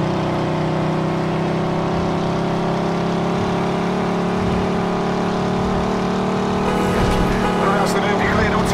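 A car engine in the video game Mafia 2 holds a steady, droning hum, then revs up louder toward the end, heard close and without any speech.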